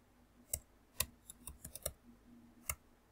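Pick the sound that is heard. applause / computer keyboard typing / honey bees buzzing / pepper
computer keyboard typing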